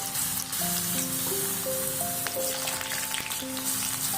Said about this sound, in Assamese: এয়া চাওক, তেলখিনি গৰম হৈছে, এতিয়া মই ইয়াত আলুখিনি দি দিছোঁ।